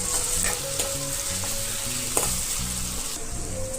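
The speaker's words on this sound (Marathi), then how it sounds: "इथे कांदा चांगला परतवून घेत आहे मी" Chopped onion sautéing in oil, with no other ingredients yet, while being stirred, for a village-style dry fish gravy; a steady, close sizzle runs throughout with soft scraping stir strokes and small crackles.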